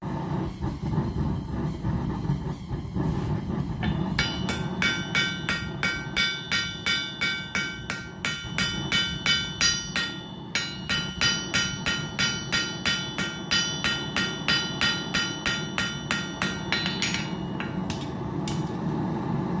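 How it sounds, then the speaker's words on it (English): Titanium knife blade being hammered on an anvil to form its bevel: a long run of sharp, ringing metallic blows at a steady rapid rhythm, close and clear, beginning after a few quieter seconds and stopping near the end. "I'll hammer in this bevel, or a little bit of that bevel"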